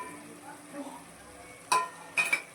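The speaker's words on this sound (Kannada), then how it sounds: "ಇವಾಗ ಇದಕ್ಕೆ ಫ್ರೈ ಮಾಡ್ಕೊಂಡಿರೋಣ ಪನ್ನೀರನ್ನು ಸೇರಿಸ್ಕೊಳ್ತಿದ್ದೇನೆ." Fried paneer stirred into chilli sauce in a pan for restaurant-style paneer chilli: a soft low sizzle with faint stirring, then two sharp clinks of a utensil against the pan near the end.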